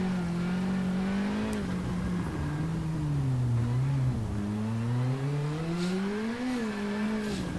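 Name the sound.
WRC2 rally car engine in WRC 7 video game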